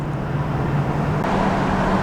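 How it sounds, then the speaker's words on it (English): Steady road traffic rolls past, a constant rumble of cars and larger vehicles blending into an even wash of roadway noise at moderate distance, with no voices. "A lot of traffic"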